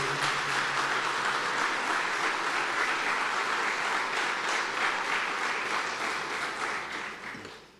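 A church congregation applauds loudly during a sermon, many hands clapping in a full, continuous roar that holds steady and then fades away at the end.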